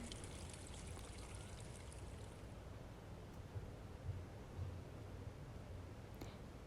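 Running water flows steadily as a character washes their face in the Avatar World game, a faint, even rushing hiss that continues throughout with a few soft splashes.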